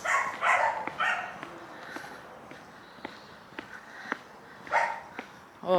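Hunting dogs shut in an enclosure bark in short bursts at a fair, several barks close together at the start and again near the end, with footsteps, sniffing and scattered clicks in between.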